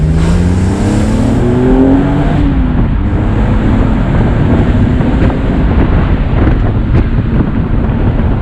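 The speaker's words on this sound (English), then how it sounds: "the sound of this, that sort of metallic sound of the exhaust is really nice" BMW Z4M Roadster engine with a metallic exhaust note, accelerating on a road. A loud, steady onboard drone rises in pitch early on, heavily buffeted by wind rush throughout.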